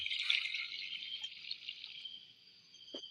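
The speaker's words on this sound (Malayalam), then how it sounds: "വെള്ളം ഒഴിച്ചു കൊടുക്കാം" Water trickles into a simmering tamarind fish curry masala with a soft, close, steady pouring stream that thins out near the end, followed by a small clink, with no talk.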